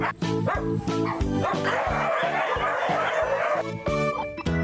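Over two hundred dogs bark and yip at once in a dense, continuous chorus, close and loud, with overlapping high-pitched barks and whines.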